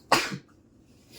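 A single sharp sneeze bursts out close by, followed by quiet.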